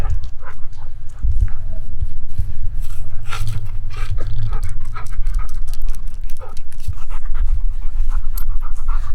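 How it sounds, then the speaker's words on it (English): A puppy pants rapidly and continuously up close after a walk, quick rhythmic breaths with occasional small whines and snuffles. "I took my puppy for a walk, and she wants a lot of attention right now."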